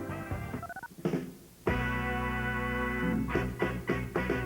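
Telephone keypad dialing tones in an AT&T commercial, a run of bright electronic beeps and sustained tones, some short and spaced, one held long.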